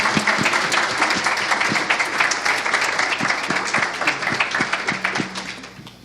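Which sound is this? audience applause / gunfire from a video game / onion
audience applause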